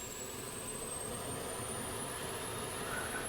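Rafale fighter jet auxiliary power unit running in a flight simulator, a steady, moderately faint turbine roar with a thin high whine slowly rising in pitch, unbroken for the whole stretch.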